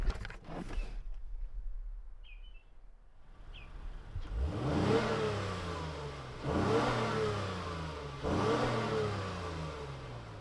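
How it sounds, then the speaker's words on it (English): A 2025 Honda Pilot TrailSport SUV engine revs hard three times in a row, each surge climbing in pitch and loudness, close by with no voices. "when I hit the gas hard in the Honda Pilot was this engine sounds great."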